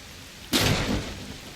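Enhanced rain effects in the S.T.A.L.K.E.R. Shadow of Chernobyl video game, quiet at first, then a sudden loud burst of rain and crackling thunder that swells and slowly eases.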